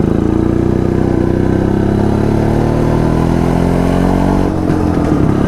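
A Jawa Yezdi D250 Classic two-stroke motorcycle, old but in good condition, idles and runs steadily up close, loud and continuous with a clattery buzzing tone that shifts slightly near the end.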